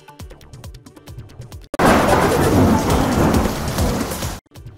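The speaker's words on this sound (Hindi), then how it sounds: "राजस्थान के जोधपुर और टोंक में बारिश से गलियों में आया सैलाब, कई गाड़ियां पानी में बही।" Heavy monsoon rain pours down during street flooding in Jodhpur and Tonk, Rajasthan, a dense, loud, continuous roar of rain on surfaces lasting a few seconds, framed by short plucked musical notes before and after.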